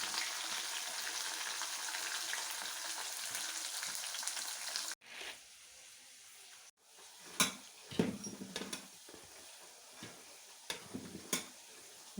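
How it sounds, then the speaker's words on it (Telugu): Urad dal, roasted chana dal and mustard seeds fry in hot oil, hissing and sizzling steadily, then after a brief break crackle and pop in scattered sharp bursts, close and fairly quiet. "మినప్పప్పు, పుట్నాల పప్పు, ఆవాలు ఆయిల్లో వేసి ఫ్రై చేయాలి."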